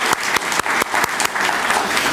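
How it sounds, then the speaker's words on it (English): Brief audience applause at a stewardship conference keynote, a short burst of crowd clapping with a few sharp individual claps standing out. "Let's give her a round of applause."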